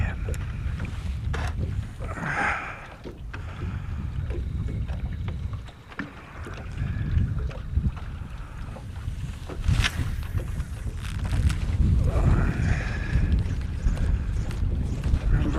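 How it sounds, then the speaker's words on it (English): Strong, punishing wind blows upstream along a river during a fishing outing, a continuous low roar buffeting the microphone with gusts that swell and ease over the whole stretch. "Very punishing wind coming from downstream back up."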